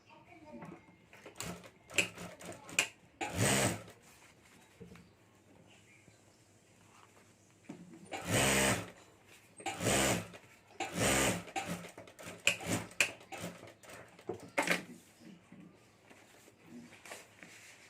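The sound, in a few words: sewing machine stitching a homemade luggage bag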